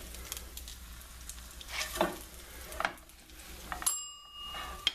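Coconut panko coated chicken legs fry in hot grease with a soft, steady sizzle, broken by scraping, clinking turns of the pieces and a short bright metallic ring near the end.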